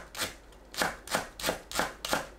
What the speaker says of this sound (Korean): 양파를 채 썰어주세요.